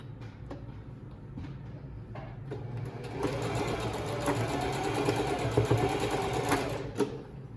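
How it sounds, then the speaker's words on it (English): A sewing machine stitches across the back edge of fabric for a whale stuffie, starting with a few short runs, then settling into a steady, close mechanical whir that stops abruptly at the end. "I'm going to sew right across this back edge."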